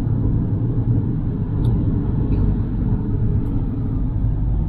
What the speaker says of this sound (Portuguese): Muito carro.